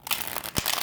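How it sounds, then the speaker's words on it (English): A deck of playing cards is shuffled once in a short, quiet burst of crisp crinkling and riffling paper sounds, with a soft thump partway through. "We'll just give it one more shuffle."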